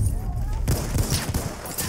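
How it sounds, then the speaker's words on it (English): Gunfire from the Battlefield 1 online multiplayer game on PS4: a burst of rapid shots crackles through the mix, steady and fairly loud, fading in and out with a voice talking over part of it. "Getting shot from the right side."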